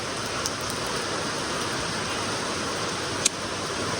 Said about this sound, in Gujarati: જો તમે ધામધૂમ વરસાદ પડી રહ્યો છે